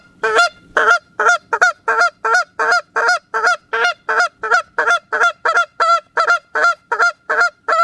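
A goose flute call imitating excited incoming geese with rapid double clucking, about sixteen sharp, evenly spaced honking notes repeating steadily and loudly, close and alone.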